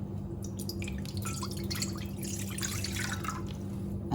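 Water trickles and drips steadily into a cooking pot while cassava porridge is being prepared, a close, continuous liquid patter over a low kitchen hum with no talk.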